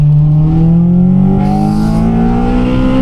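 Car engine revving hard up through the range, a loud close rising whine with a brief burst of hiss partway through, continuous and alone.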